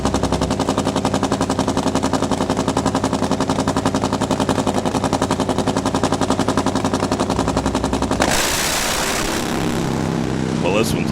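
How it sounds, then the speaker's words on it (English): Harley-Davidson V-twin drag racing motorcycle with a Romine Racing engine roars at a steady, rapid staccato firing pulse for about eight seconds, then cuts to a broadband rush as the pass ends. "See what Romine can do here on the O'Reilly lane with that Harley-Davidson of Salt Lake City"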